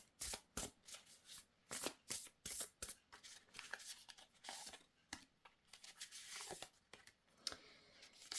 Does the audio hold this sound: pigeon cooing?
no